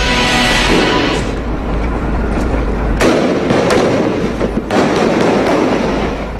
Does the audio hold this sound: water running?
no